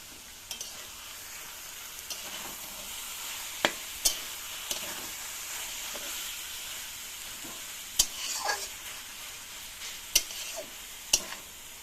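Prawns being stirred into taro stems in a pan with coconut, a steady close sizzle broken by several sharp spatula scrapes and taps against the metal, no voices.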